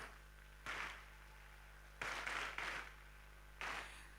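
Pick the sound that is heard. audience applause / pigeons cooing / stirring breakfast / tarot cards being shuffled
audience applause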